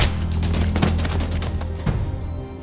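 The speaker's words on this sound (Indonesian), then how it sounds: "terdengarlah suara tembakan" A loud sequence of sharp pistol-like gunshots rings out in an action film, several rapid reports in a row with a heavier hit near the end, fading off.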